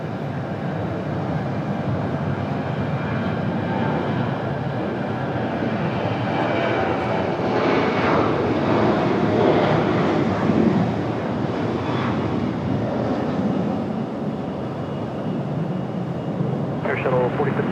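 An American Airlines jet departing Raleigh-Durham airport, a loud, sustained engine roar heard from nearby with wind buffeting the microphone and a tower radio voice underneath.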